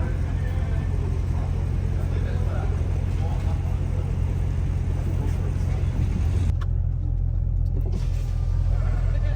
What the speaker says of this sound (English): this is an RS6 built by MTM. I think it has upgraded turbos. Sounds really good.